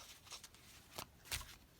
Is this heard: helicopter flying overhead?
no